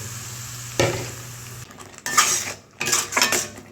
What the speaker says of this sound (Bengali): পেঁয়াজ কাজুর পেস্টটা একটু নাড়িয়ে নিলাম